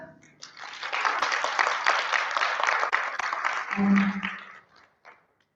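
A forum audience breaks into a broad burst of clapping that swells and holds for several seconds, then fades out, with a brief voice rising near the end.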